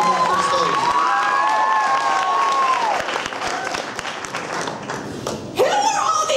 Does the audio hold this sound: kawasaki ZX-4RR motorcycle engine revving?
no